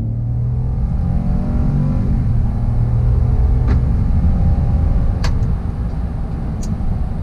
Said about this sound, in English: We're about to get a little bit of an acceleration run here on the interstate